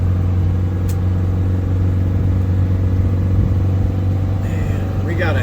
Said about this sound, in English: We're coming down here in bottom gear. Just letting her drive down all by her little self.